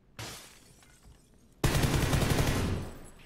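Rapid bursts of automatic gunfire in a shooting video game: a short crackle, then a louder sustained rattle of shots close up, with no talking.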